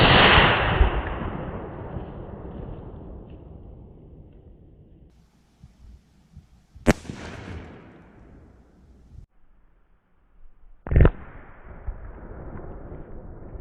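A .357 Magnum revolver firing a 158 grain soft point round into a watermelon outdoors gives one sharp, loud crack mid-clip and a second sharp report later, each dying away into quiet.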